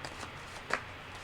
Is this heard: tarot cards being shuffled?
yes